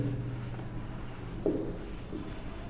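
Chalk or marker writing on a classroom board makes scratchy scraping strokes with a few sharper taps, close and fairly clear, alone without talk.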